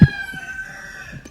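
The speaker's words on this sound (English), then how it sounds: "these chickens." Chickens at a home during a chicken fight, a loud close squawk at the start followed by rapid clucking and crowing calls, with no talking.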